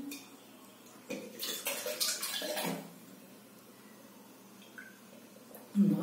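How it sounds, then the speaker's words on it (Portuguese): Water is poured from a plastic Tupperware Slim jug into a glass for drinking, a splashing burst of about a second and a half, close and moderately loud, ending in a brief clink. "Vou beber água, tô com a sede."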